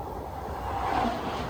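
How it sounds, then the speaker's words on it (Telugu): The Secunderabad–Guntur Intercity Express rushes past at high speed, heard from a crossing train as a steady low rumble that swells slightly toward the end, with no talking. "full on high speed యాక్షన్తో Secunderabad Guntur express అనేది వెళ్ళిపోతుంది"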